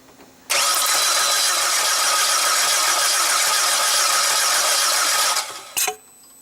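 A propane-fuelled engine cranks steadily for about five seconds without catching, the starter whirring loud and even, then stops abruptly with a brief clunk afterward.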